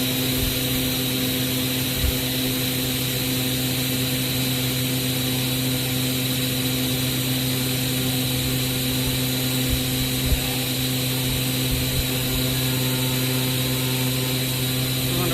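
An A4VG 125 hydraulic pump runs on a test setup as pressure is raised, producing a loud, continuous mechanical whine and hum with steady tonal layers and a few faint clanks, with no pauses.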